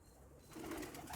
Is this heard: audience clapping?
no